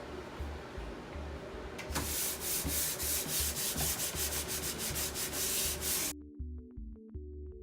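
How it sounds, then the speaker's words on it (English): Rapid back-and-forth strokes of hand sanding on wooden furniture, a light sanding, steady and close, with a low hum underneath that cuts out near the end. "I only wanted to do a light sanding"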